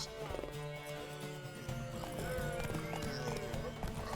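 Hooves clip-clop steadily against a busy game soundscape in The Witcher 3: Wild Hunt, with a horse snorting and people talking over the top.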